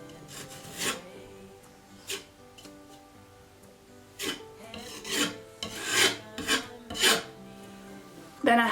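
Peeling paint being scraped off a staircase, close rough rasping strokes in irregular bursts, some short and some longer, with quiet gaps between and no voices.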